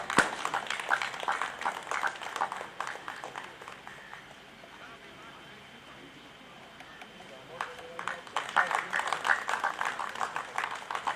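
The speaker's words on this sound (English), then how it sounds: "Huge round of applause, ladies and gentlemen." A crowd at an Independence Day celebration at Paradip Refinery applauds in scattered, crackling claps that fade to a lull and then swell again, heard from a distance in an open space.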